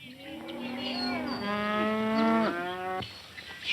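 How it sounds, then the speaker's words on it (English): Cattle mooing in a 1934 Western film scene, a long loud drawn-out low, rising and falling over about three seconds, followed by a shorter bellow near the end. "If those cattle stampede, we're in a bad way."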